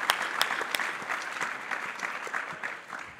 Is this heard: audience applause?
yes